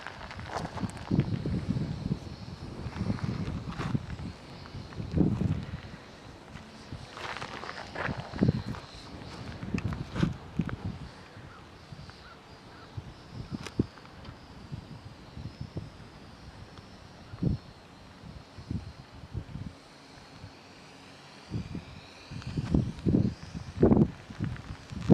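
High wind gusts outdoors around a Lithawk Quattro Extreme RC aircraft flight, coming in uneven rushing bursts with thumps and rustling, louder at the start and end and quieter in the middle.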